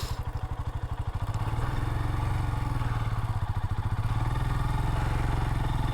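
A motorcycle on a dry Swedish trail engine rumbling as it pulls away up a hill, a steady loud throb with rapid firing pulses that swell as the revs rise.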